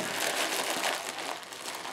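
A plastic Ziploc bag crinkles continuously as it is pressed flat and rolled up, a close, dense crackling rustle that never stops.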